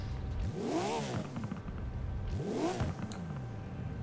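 A Porsche engine in Forza Horizon 4 rises and falls in two smooth, sweeping revs while the car sits standing still, each swell clear and fairly close over a steady low hum.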